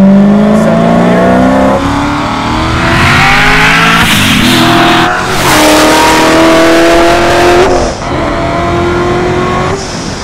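Hennessey Corvette Z06 tuned to 1000 hp accelerating hard on a damp track in second gear with exhaust butterfly valves open, a loud, close, rising engine roar with a gear change partway through.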